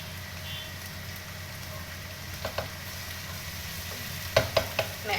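Rice tossed in a wok with vegetables for chicken fried rice makes a quiet, steady sizzle, with a few sharp scraping and clanking strokes of the spatula near the end.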